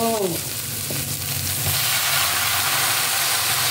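Loud, steady sizzling of snake gourd sautéing in a hot pan, with a few scraping stirs near the start.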